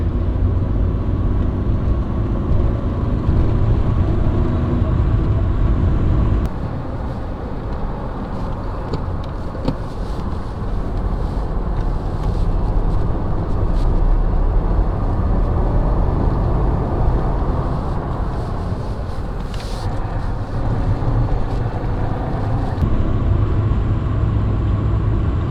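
A BMW Compact 318ti engine pulling hard while driving, a loud, steady in-car drone with heavy low rumble and road noise, easing off briefly in the middle before building again.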